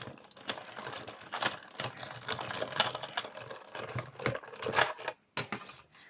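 A die-cutting machine presses Bibi Craft dies through paper for a birthday card, a close series of sharp, irregular clicks and clacks in quick bursts with short pauses between them.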